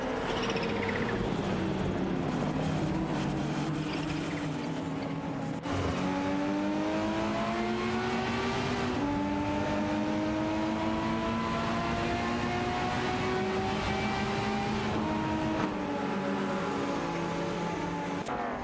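Race car engines in a racing video game, including a Ferrari 288 GTO and a Porsche 911 Carrera RSF 3.8, droning and revving continuously with rising and falling pitch as gears shift, loud and unbroken.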